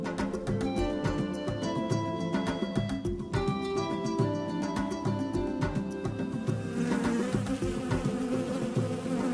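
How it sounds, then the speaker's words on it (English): A bee buzzes close by at a children's church game where two giraffes munch food, its steady insect drone running throughout with busy rhythmic background sounds. "It appears that a bee is distracting Gerard Giraffe."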